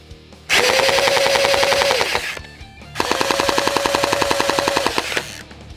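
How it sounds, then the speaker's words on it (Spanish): A 1:1 scale G36 gel blaster replica fires two long full-auto bursts, a rapid even rattle of shots with a motor whine underneath, loud and close, separated by a brief pause, no talking. "Y miren cómo se escucha su disparo."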